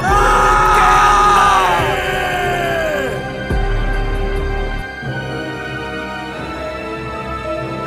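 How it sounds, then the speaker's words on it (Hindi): Loud, anguished screams and yells from a Hindi horror story, a long drawn-out cry at first that fades, then further shorter shouts among eerie ambience. "राघव और मीरा भागने की कोशिश करते हैं, लेकिन उनकी चीखें सन्नाटे में दब जाती हैं।"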